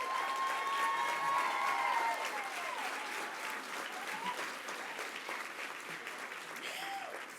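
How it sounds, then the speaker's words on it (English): Steady audience applause fills a gala hall at the BCPP Luminary Gala, a dense wash of many hands clapping with a few faint high whistle-like tones drifting through. "that was a really good applause"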